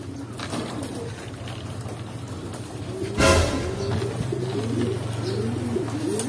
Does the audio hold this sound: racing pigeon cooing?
yes